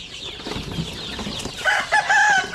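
Basilan and Zamboanga native chickens and chicks in a farm setting: scattered low clucks, then a run of clear, high chirps near the end, close and alone.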